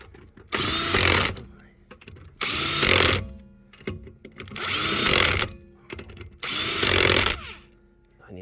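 A cordless power tool, such as a drill or impact driver, runs in four loud, close bursts of about one second each, with short pauses between them and faint handling noise in the gaps.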